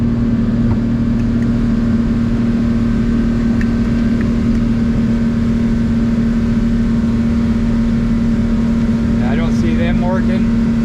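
A Seaswirl boat repowered with a used Yamaha F250 outboard engine runs on the water, giving a loud, constant drone with a steady hum that holds for about eleven seconds.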